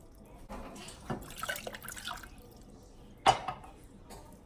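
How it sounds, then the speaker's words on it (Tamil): Water is poured into a cooking pan for a home remedy, a faint, close splashing in a few short bursts, then drips and one sharper splash, with no one talking. "அதில் 2 கப் தண்ணி ஊற்றிக்கோங்க."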